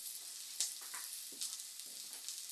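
Chopped garlic sizzles in a pan until golden brown, a quiet, steady crackle and hiss with a few sharper pops, no voices.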